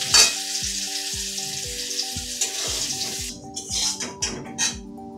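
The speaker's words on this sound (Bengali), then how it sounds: "জল শুকিয়ে গেছে, এখন ভাজা ভাজা করে নেব।" Potatoes frying in a pan once the water has cooked off, giving a steady close sizzle with stirring scrapes throughout and light background music underneath.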